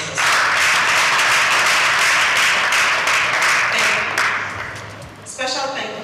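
An audience at a live news event applauds with sustained, loud, dense clapping that fades out toward the end.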